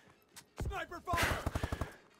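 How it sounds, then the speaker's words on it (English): Gunfire rings out during a Call of Duty: Advanced Warfare multiplayer match on new DLC maps, a cluster of sharp shots followed by a rapid run of evenly spaced cracks, close and fairly loud, with a brief game voice line just before. "Sniper fire!"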